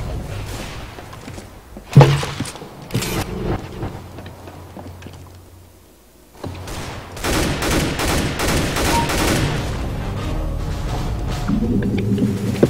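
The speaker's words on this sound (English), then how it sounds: "He was shooting me through a wall" Rapid gunfire bursts in Counter-Strike: Global Offensive, with sharp clustered shots early, a brief lull, then a long loud stretch of dense automatic fire and cracks.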